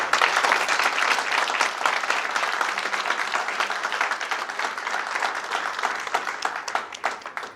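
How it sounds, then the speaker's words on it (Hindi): A large audience at a corporate event claps loudly and steadily for several seconds, a dense roar of many hands that slowly tapers off near the end. "तो बजाइए अपने लिए ताली।"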